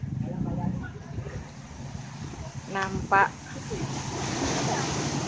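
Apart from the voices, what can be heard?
waves breaking on a rocky beach, Sanur, Bali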